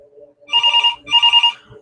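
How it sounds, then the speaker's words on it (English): A telephone rings in two short double-trill bursts, close and clear, with a quiet voice heard briefly before the rings. "The sound of that phone ringing had become sickening"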